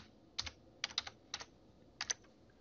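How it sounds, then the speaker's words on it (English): Fingers type a new password on a computer keyboard: a few quick clusters of light, crisp key clicks spaced over a couple of seconds, close and fairly quiet, with no voice. "Type in a new password, confirm your new password,"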